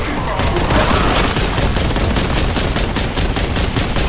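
Rapid, heavy automatic fire from the Boltgun in Warhammer 40K: Boltgun during Horde Mode, a dense continuous volley of punchy, meaty shots at close range with no pauses.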